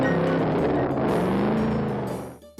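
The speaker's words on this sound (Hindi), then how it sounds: "तभी शंपू एक और बाइक में बकरी को लेकर आया।" A motorbike rumbles in close and loud, its engine droning with a rising and falling pitch as it pulls up, then fading and cutting off near the end.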